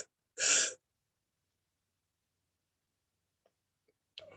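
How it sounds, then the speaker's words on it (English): A single sharp, deep inhaled breath comes close to the mic, followed by silence while the breath is held, then a few faint clicks and another breath starting at the end. "when you're breathing in 4 times, you're going to hold it and put some pressure on your breath"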